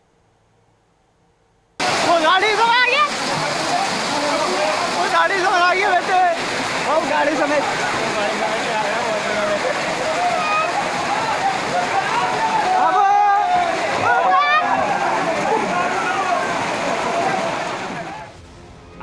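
Floodwater after three hours of heavy rain surges through a town street, a loud continuous rushing and splashing roar that starts abruptly and carries on beneath Hindi voices talking, fading out at the end.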